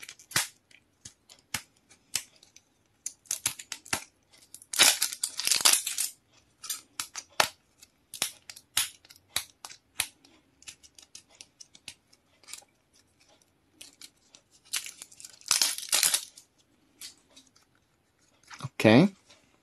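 A plastic surprise egg is snapped and cracked open by hand, giving sharp, irregular clicks and crinkling rustles with bursts of louder scraping, close up in a quiet room.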